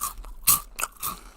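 Crunchy snack bitten and chewed up close, a few loud crisp crunches in an uneven rhythm with no talking, like an ASMR eating sound.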